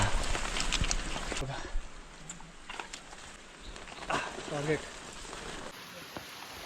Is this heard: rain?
yes